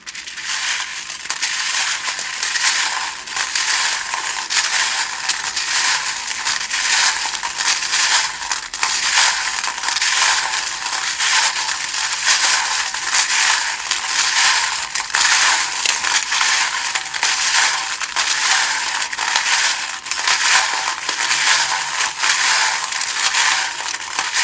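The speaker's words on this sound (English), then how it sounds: "if you don't like the sound of the charms being shuffled" Small metal tarot charms shuffled continuously, a dense, bright clinking and rattling that carries on steadily from start to finish with no voices.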